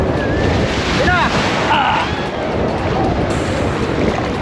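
Steady roar of surf and wind washing over the microphone, with faint voices in the background, at a beach on Boracay.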